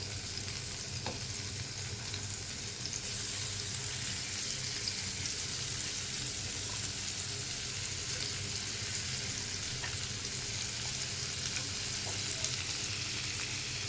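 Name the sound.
air fish frying in oil in a frying pan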